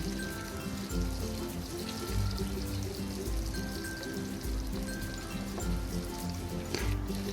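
Chopped onions sizzle and crackle as they are stirred through hot oil in a pan for a spicy Kashmiri chicken curry, a steady close frying hiss with soft scraping and small bursts throughout.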